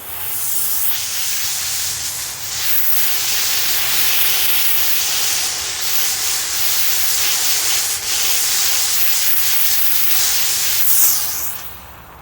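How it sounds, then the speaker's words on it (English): A steady, close hiss of a steam cleaner spraying continuously on car carpet, with slight shifts in intensity as the nozzle moves across the surface. "That way I'm not pushing water and steam and the dirt back down into the carpet."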